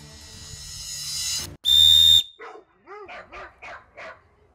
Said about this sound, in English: This is the world's loudest 3D printed whistle.